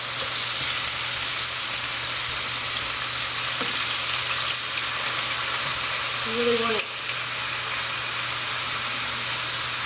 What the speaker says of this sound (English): sizzling like this, and just kind of even out the meat, all that good brown sugar